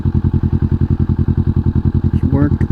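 A Kawasaki Vulcan S motorcycle engine chugging at low speed during slow-speed maneuvering, a steady close, loud, pulsing thump of firing beats, with a brief voice near the end.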